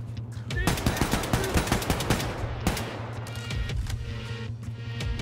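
Rapid automatic gunfire from a gun in the shooter Wolfenstein II, loud repeated bursts with a steady low hum beneath, while players talk over it.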